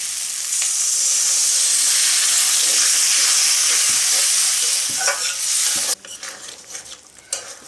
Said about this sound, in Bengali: এরপর আমি দিয়ে দিচ্ছি একটু জল।